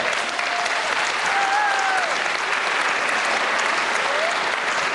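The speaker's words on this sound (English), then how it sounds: "let's give them a round of applause for all that they've done" A crowd applauds steadily and loudly for several seconds at a graduation ceremony, with a few faint cheers or whoops rising over the clapping.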